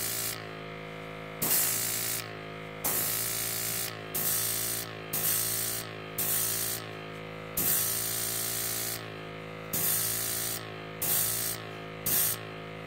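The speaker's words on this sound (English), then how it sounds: "we're just going to start spraying it" Repeated hissing bursts of an aerosol spray can spray-painting miniature figures, each lasting about a second, separated by short pauses over a low steady hum.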